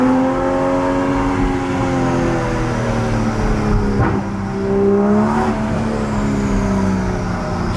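A Toyota Supra engine roars steadily at close range, its deep exhaust note holding and rising slightly as the car arrives at the Interlagos race track, with no talk over it.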